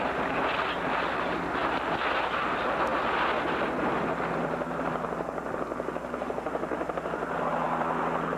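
A police helicopter flies overhead with a constant loud rotor drone and steady chopping pulse, holding close and even throughout with no voices.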